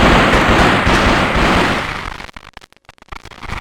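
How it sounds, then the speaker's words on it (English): AK rifle gunfire from Counter-Strike on the Sega Dreamcast, a loud continuous rattle of rapid shots for about two seconds, then fading into a few scattered sharp cracks with brief gaps of quiet. "when you select the AK and you start shooting, the sound of the AK overrides all the other sounds"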